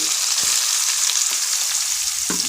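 Four large onions are dropped into hot oil where fennel seeds have already crackled, for a goat brain masala fry. A loud, dense sizzle runs throughout, with a few sharp stirring clicks.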